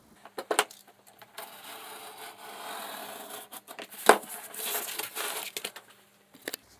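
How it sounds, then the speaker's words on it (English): Scraping cuts through cardboard come in irregular bursts and longer rasping strokes, close and moderately loud, with pauses between passes and no voices. "I'm going to just cut the cardboard to shape"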